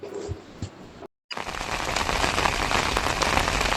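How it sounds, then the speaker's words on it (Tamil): Heavy rain pours steadily on a rural honey-hunting trip, a dense close hiss of drops on surfaces that stops for a brief moment and then comes back louder and fuller. "இந்த ஏரியா ஃபுல்லாக மழையாக இருக்குது"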